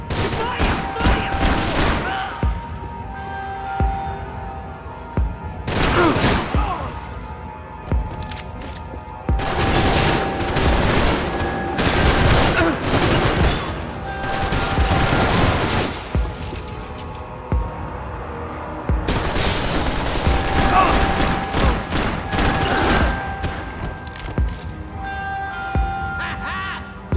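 Dense bursts of gunfire from the video game Max Payne 3, rapid automatic volleys and heavy booms in loud waves over nearly half a minute, with shouting voices mixed in.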